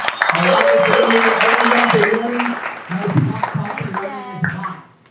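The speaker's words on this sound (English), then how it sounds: "let's give a nice thank you applause for Chet and his team" An audience at Daytona Cinematique in Daytona Beach gives a round of applause, a dense burst of clapping that thins out over a few seconds while a voice speaks over it.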